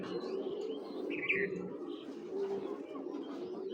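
Pet pigeons, including a military breed hen, coo and chirp faintly in a loft, the soft calls blending into low background noise throughout.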